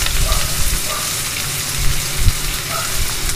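Onion tipped into hot oil seasoned with asafoetida, a loud, dense, steady sizzle that fills the whole moment close up, with faint stirring bumps inside the hiss.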